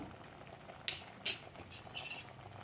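A tablespoon of powdered jaggery goes into a pot of Kerala koottucurry with a couple of sharp metal spoon clinks against the vessel, followed by fainter taps, in a quiet kitchen.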